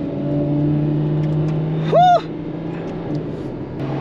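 A Ferrari F12 TDF engine hums steadily at low revs while driving, rising in one brief, sharper rev burst midway before settling back into a steady cabin drone.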